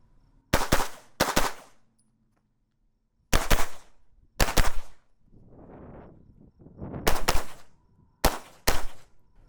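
Sharp pistol shots from a Staccato XC during a timed shooting drill, fired in quick pairs of two with short pauses between strings, loud and close, with a brief rustle between volleys.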